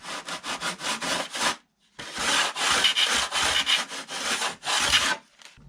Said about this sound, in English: Try to get these sanded off.